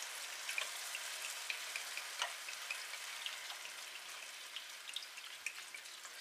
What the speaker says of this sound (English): So, I'm just going to pour that wine all into this thing.